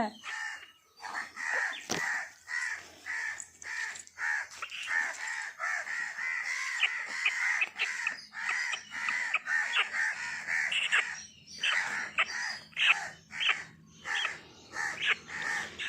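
A crow caws repeatedly and loudly, close by in a steady run of harsh calls, with faint voices in the background.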